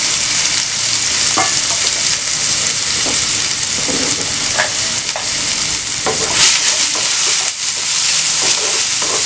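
Chopped onion, green chili, ginger, garlic, coriander and mint sauté in hot oil, with a loud, continuous sizzle and frequent scraping stirs close by, and no talking.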